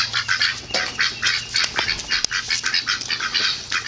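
A goose honks and squawks close by beside a backyard pool, its calls repeated in an irregular run over steady outdoor background noise, with a sharp click partway through.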